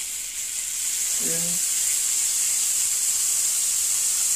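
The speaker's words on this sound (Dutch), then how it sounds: "Daar leg ik nu wat schijfjes vet" Slices of fat sizzle in melted butter in a pan, giving a steady, loud frying hiss that runs through the whole stretch, with a brief spoken word near the start.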